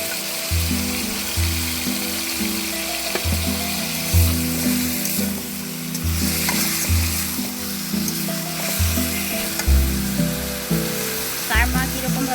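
Sliced onion rings sizzle steadily in a pan for a Bengali-style chicken and potato curry, a constant close frying hiss over a pulsing low hum, with occasional scrapes and clicks.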